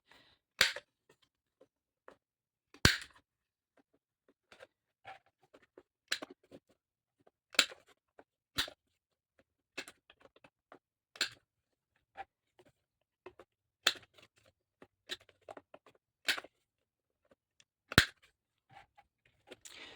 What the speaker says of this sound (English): Now I am going to use the 4mm rounder